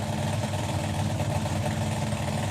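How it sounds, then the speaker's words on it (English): A race car at the FIA Euro Finals 2024, fitted with an engine previously used in a Corvette, idles with a steady low rumbling throb, fairly close and continuous, with no voices. "the engine that was previously in the Corvette in this car"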